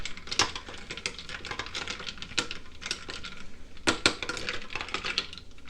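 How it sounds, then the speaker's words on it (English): A spoon stirs ingredients inside an Instant Pot with irregular metallic clinks and scrapes, some sharper and louder than others, close and unaccompanied by speech. "Grab a spoon and stir that up a bit."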